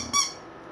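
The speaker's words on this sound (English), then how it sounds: "It's pretty much your favorite squeaky." A squeaky pet toy gives a single short, bright squeak, close and fairly loud, followed by quiet room background.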